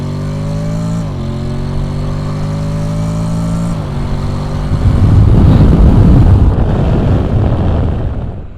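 A 2021 Honda NC750X motorcycle in sport mode revs loud and close, its engine note climbing through two gear changes before swelling into a rough, full-throttle roar.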